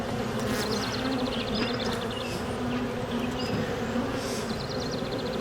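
Honeybees humming steadily around an open hive during an inspection in early season, a dense continuous drone close by at low volume, with occasional faint chirps above.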